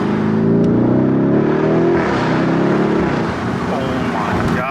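A loud sports car engine revving hard and pulling through acceleration, a steady roaring drone that climbs in pitch, heard from inside at close range with some voice underneath.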